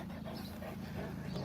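Several dogs, one of them a Rottweiler, pant and whimper close by, soft breathy huffs and faint whines running continuously under a low murmur.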